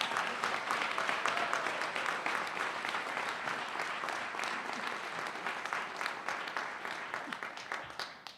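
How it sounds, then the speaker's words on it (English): Sustained crowd applause at a city inauguration ceremony in Lawrence, many hands clapping in a thick wash that slowly thins toward the end, heard from a distance in a large room. "and give ourselves a round of applause."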